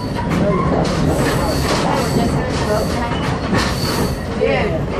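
Continuous rumble and rattle of a train riding on rails, loud and steady throughout with faint wheel squeal, while people talk over it.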